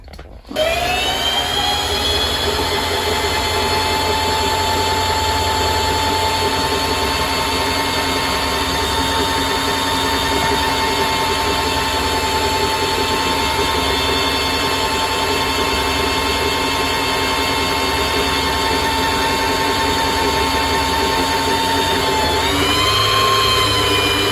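A Singer 4411 sewing machine winds a bobbin with a loud, steady motor whine that runs unbroken for about 24 seconds, its pitch shifting slightly as it slows near the end.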